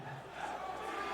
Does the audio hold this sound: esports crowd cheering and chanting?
yes